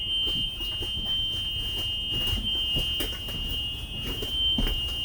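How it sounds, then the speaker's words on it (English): A school bus emergency exit door buzzer sounds continuously, high-pitched and electronic, over a low rumbling background. "Open the door. I can hear the buzzer."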